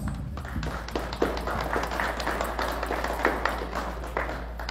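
An audience at a Peruvian university ceremony breaks into strong, dense applause, a continuous patter of many hands clapping at moderate loudness with a low steady hum beneath.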